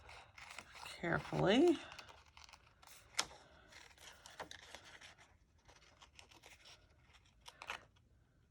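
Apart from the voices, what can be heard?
cutting out a dried flower tag by hand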